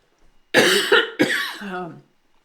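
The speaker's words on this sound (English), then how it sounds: "I have to cough here." A few sharp coughs in quick succession, close and fairly loud, then silence.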